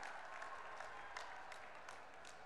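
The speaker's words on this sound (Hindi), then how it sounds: "मैं ताली बजाकर सबसे अभिवादन करने के लिए आग्रह करता हूं" An audience at a farmers' cooperative conference with the Union Home Minister applauds steadily, a faint, distant wash of clapping heard throughout.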